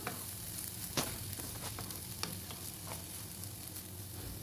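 Baby drumstick poriyal being stirred in a pan, with a steady low sizzle and a few sharp scraping clicks from the spoon spaced irregularly across the clip.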